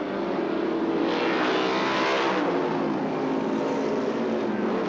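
Formula 5000 race cars race at Sandown in the 1978 Rothmans Series, with a loud, continuous engine roar that swells and shifts in pitch as the cars pass.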